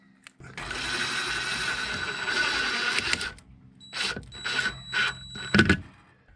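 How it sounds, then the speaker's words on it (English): Power driver sinking a stainless steel screw into a deck board end, with a sustained whir for about three seconds followed by several short bursts of driving, close and fairly loud. "Put in a stainless steel screw."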